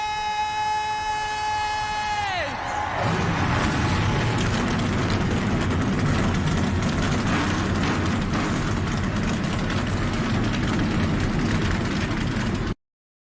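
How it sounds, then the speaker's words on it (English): Race car engines in a stock car racing video game at Kansas Motor Speedway fire up together after a fading horn-like tone, then hold a dense, loud, sustained roar until an abrupt cut. "The engines have been fired."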